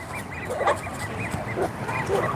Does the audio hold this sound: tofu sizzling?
no